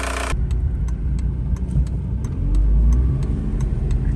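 A Mk4 Volkswagen with a 1.9L TDI diesel engine drives steadily with a droning engine, swelling briefly as it accelerates, accompanied by faint regular ticking.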